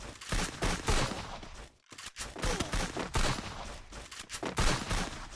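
Gunfire in the Free Fire video game: dense bursts of rapid shots and automatic fire, loud and repeated, with a brief pause midway before the shooting resumes.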